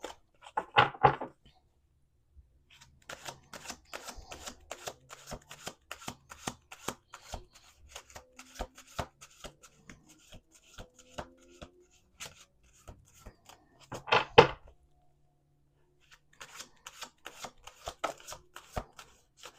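Tarot cards are shuffled by hand in a quiet room, a run of crisp, rapid riffles and soft slaps, close and clear, with brief pauses between bursts and no talking.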